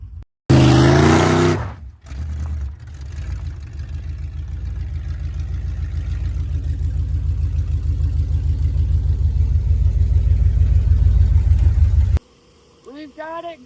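A 1973 Plymouth Space Duster engine, brought back to life after sitting, runs loud and near, its rumble building gradually as it revs before cutting off abruptly. A burst of noise opens the sequence, and a voice speaks briefly at the end.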